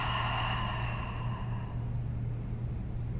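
A deep, slow exhale during a guided meditation breathing exercise, steady and soft for about three seconds over a low constant background hum, with no talking.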